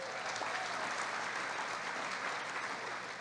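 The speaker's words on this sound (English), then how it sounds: "let's give them another round of applause" Sustained applause fills a conference luncheon hall as park district award winners are honored, a dense, steady clapping from a large seated crowd with no break throughout.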